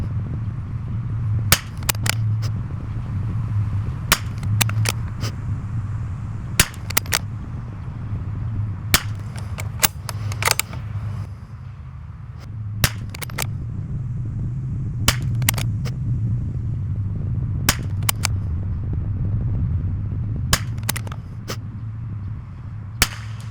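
Sharp rifle shots from a Tikka T1X crack out across a 100-yard range, about twenty separate reports with irregular gaps, some in quick pairs, over a low steady background hum.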